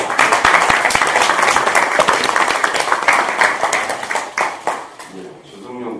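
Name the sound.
audience applause at a party meeting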